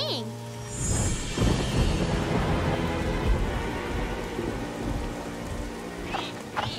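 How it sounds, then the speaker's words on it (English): Steady heavy rain hisses across a cartoon scene, with rumbling thunder swelling early on, loud and continuous, and a few brief voice sounds at the edges. "We'll just have to wait the rain out."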